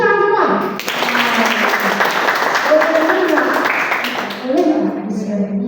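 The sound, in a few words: applause from students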